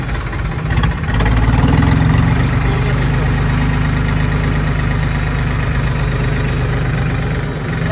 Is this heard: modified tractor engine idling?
yes